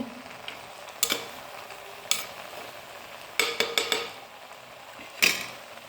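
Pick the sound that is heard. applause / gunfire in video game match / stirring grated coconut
stirring grated coconut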